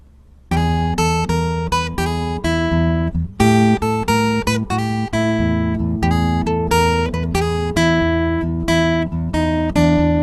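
A lone acoustic guitar plays a bluesy lick in A built on the flatted third, plucked notes ringing clearly in a loose rhythm, close and fairly loud with no voices.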